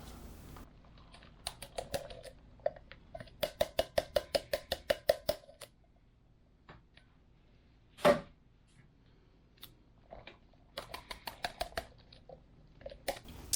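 A knife chops onion on a cutting board in a kitchen, sounding as brisk runs of close, sharp taps in uneven bursts, with one heavier knock and brief pauses between runs.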